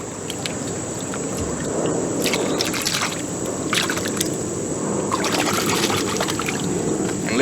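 A powerful hose rinses black diamond coal aquarium sand in a container of water, giving a steady close trickle and slosh with bursts of churning splashes as the sand gets agitated.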